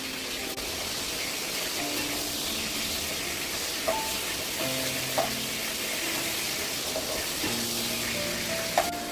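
Chicken 65 frying in a pan gives off a continuous dense sizzle and crackle close up, with occasional light clinks of a utensil against the pan and no talking.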